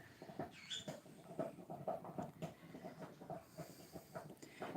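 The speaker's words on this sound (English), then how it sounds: "if you hear the little kissy noises in the background, that is my conures being really, really stinking cute today." Pet conures make little kissy noises: soft, quick smacking chirps repeated in an uneven patter, faint and somewhat distant, with no voices over them.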